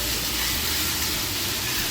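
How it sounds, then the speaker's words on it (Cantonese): Rice noodles fry in a very hot wok with a steady, loud, close sizzle and hiss that runs without a break the whole time. "OK， 煎下佢先。"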